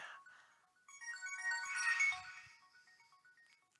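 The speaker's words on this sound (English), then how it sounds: "excuse me for a second because my phone is ringing" A phone ringtone plays a bright melodic tune of repeated electronic notes, near and fairly clear, swelling in the middle and fading out by the end, with no talk over it.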